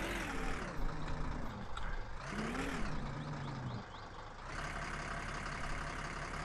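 Truck reversing in the video game My Summer Car, a loud engine drone with a whining pitch that rises and falls, gear and brake hiss sounds, and no talk.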